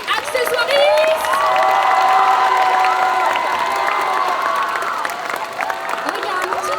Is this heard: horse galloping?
no